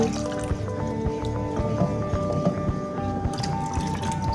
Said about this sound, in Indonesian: kita tambahkan sisa susu yang masih ada